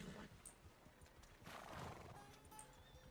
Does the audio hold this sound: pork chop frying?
no